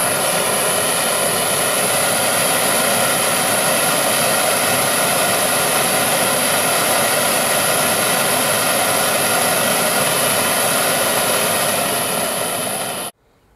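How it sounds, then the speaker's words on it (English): A Sievert 3940 gas burner, 17 mm diameter and running at 2 bar, gives a loud, steady broadband roar with a high whistle on top, unbroken for about thirteen seconds before cutting off. "This is the 3940 burner, 17 millimeter diameter, consuming 90 grams of gas at 2 bar per hour"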